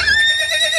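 A horse with a hoof complaint lets out one loud, close, sustained whinny with a wavering, strongly tonal quality that carries on to the end.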